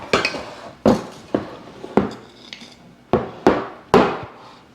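Spoon scraping and clacking against a bowl while a child scoops no-bake chocolate oatmeal cookie mixture in a home kitchen, about seven sharp knocks at irregular intervals, close and fairly loud with no talk.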